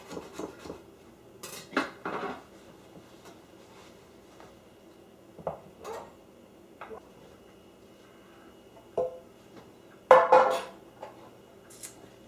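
Metal and utensil scraping against a baking pan while loosening warm pumpkin bread, heard as scattered clinks and scrapes with a few louder knocks near the end.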